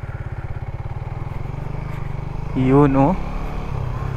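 Raider 150 Fi motorcycle engine fitted with a new spark plug and ignition coil, idling steadily at close range, then briefly revving and settling back to idle, with a short spoken remark over the rev.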